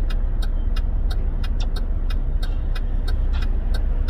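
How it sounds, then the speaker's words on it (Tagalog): Heavy rush-hour road traffic rumbles steadily and loudly throughout, with a regular ticking, like a turn indicator, repeating about every third of a second over the noise. "Halatang uwian na talaga dahil ang traffic ay grabe."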